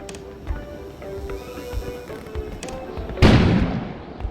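An explosion goes off outside in the video game Kona, a sudden loud broadband boom that decays over about a second after a stretch of quiet ambient rumble and faint thuds.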